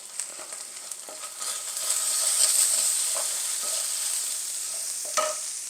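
Ginger garlic paste with coriander powder and a pinch of turmeric sizzling and frying in a pan for methi matar malai, a steady close hiss with occasional stirring scrapes and clinks, no voices.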